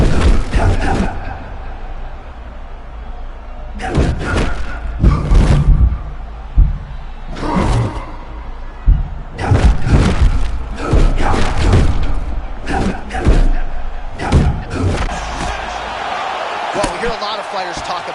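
Heavy body strikes thud repeatedly in a UFC video game fight, loud dull impacts landing in bursts with crowd noise and an announcer talking over the action.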